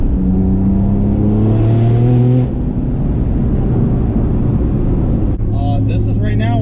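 A 1000 hp turbocharged Porsche 911 997 accelerates hard, its loud engine rising steadily in pitch before easing off, then pulling again from inside the car, with voices talking over it.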